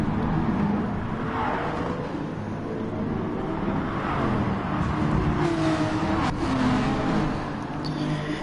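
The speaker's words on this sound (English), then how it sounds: "the Jaguar just sails through on the straight" A Jaguar GT3-class race car in GT Sport speeds down the straight at Spa, its engine a steady loud drone at high revs, continuous and close, without talk.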